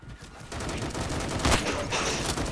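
A Glock 18 fires in Roblox's Phantom Forces with a rapid burst of automatic gunfire, dense and fairly loud, that runs across the whole span with a sharper peak in the middle.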